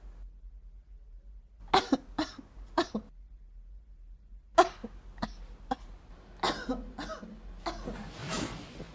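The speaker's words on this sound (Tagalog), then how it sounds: "Ubo number two, ubong pasan ko ang daigdig." A series of deliberately performed coughs, loud and close, in separate bursts: three spaced coughs, a pause, then several quicker ones ending in a longer breathy hack over a faint low hum.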